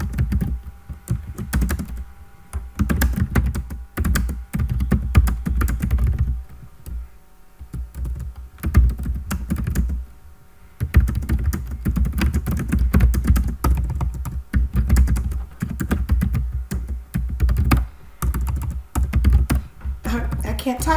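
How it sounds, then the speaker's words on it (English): Typing on a computer keyboard: steady, rapid close-up key clicks and taps running almost continuously, with brief pauses, over a low background rumble. "you can begin to type in what you want your text to say"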